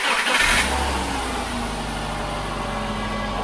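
A Subaru Outback that has sat unused for a long time, its engine starting for the first time: a short cranking burst, then an immediate catch into a steady, fairly quiet idle hum that holds to the end.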